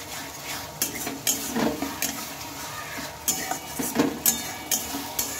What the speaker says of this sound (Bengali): আর মশলাটা এখন আমি ভালোভাবে কষিয়ে নেব।